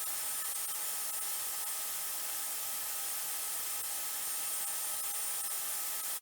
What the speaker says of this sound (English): Now I'm ready to go ahead and get that thing sanded down.